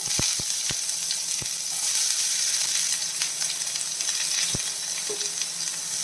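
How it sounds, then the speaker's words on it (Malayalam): Chopped onion and garlic frying in a pan with popping mustard seeds for a spinach and egg dish, a steady loud sizzle with a few sharp crackles and pops throughout. "ഇപ്പം നമ്മൾ കട്ട് ചെയ്ത് വെച്ചിരിക്കുന്ന സവാളയും വെളുത്തുള്ളി ഇട്ട് കൊടുക്കാം"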